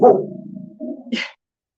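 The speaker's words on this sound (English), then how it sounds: "No, that's Liam barking" A dog barks close by, a short run of two or three loud barks and a yelp that then stop into silence.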